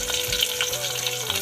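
Chopped onion dropped into hot oil already crackling with mustard seeds and cumin gives a brief, close burst of frying sizzle with spluttering pops and no voices.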